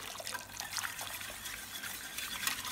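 Liquid pours and trickles steadily at close range, a continuous wet splashing with no voices.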